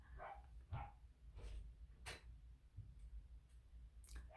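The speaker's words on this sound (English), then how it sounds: "The dog is barking." A dog barks several times at irregular intervals, short sharp yaps sounding somewhat distant and faint, with quiet background between them.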